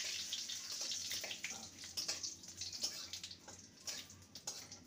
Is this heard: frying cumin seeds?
yes